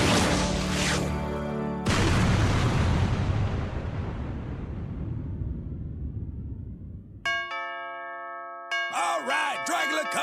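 A doorbell is rung over and over on Halloween night in a cartoon; a long loud crashing rumble gives way to a clear two-tone chime that sounds and then repeats in quick bursts.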